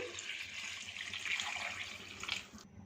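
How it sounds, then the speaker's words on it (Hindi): Water pours steadily into a cooking pan for a paya mutton trotters dish, a soft continuous rushing splash heard close and alone before stopping abruptly. "तकरीबन 3 से 4 लीटर पानी इसमें डालेंगे।"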